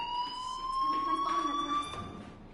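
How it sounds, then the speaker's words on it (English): A fire alarm sounds in the video game Life is Strange at Blackwell Academy, a steady electronic tone with faint harmonics running throughout, with light background noise. "Hey, do you hear that fire alarm?"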